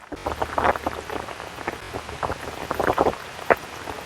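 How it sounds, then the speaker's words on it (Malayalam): Heavy rain during a forest adventure trip, scattered loud drumming patters and gusts of wind noise close to the microphone, with no voices. "നല്ല മഴ"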